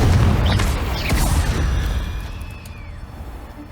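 Confringo fire spell explosion in the video game Hogwarts Legacy: a loud, booming burst right at the start that rumbles and fades slowly over a few seconds.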